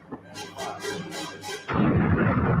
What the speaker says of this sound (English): If this is the new explosion.